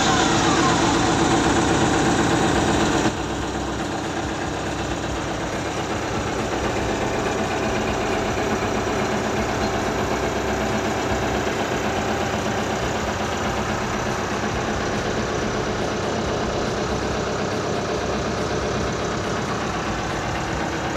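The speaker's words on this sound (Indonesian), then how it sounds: "kita hidupkan mesinnya, cek apakah ada kebocoran" Komatsu PC130F-7 excavator engine starting with a louder burst, then settling into a steady, loud diesel idle that rumbles on unchanged for the rest of the time.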